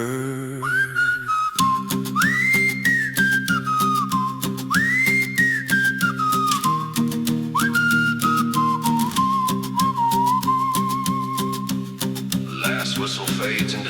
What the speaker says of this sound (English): Last whistle fades into silence.